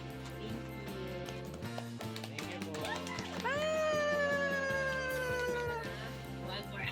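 A house cat meows amid busy background music with steady beats and sustained tones, the cries rising and bending in pitch through the middle of the stretch at moderate loudness.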